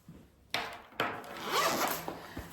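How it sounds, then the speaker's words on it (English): Zipper pulled open on a padded carrying case for a 14-inch triple laptop monitor unit, two quick sharp tugs followed by a longer rasping unzip, close and fairly quiet. "they provide this padded zipper case for the whole unit to fit in"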